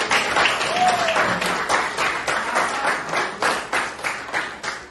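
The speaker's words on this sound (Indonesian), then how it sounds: "tepuk tangan untuk kita semua" A small class claps during a lesson, producing a loose run of uneven, fairly quiet hand claps that continues without a break.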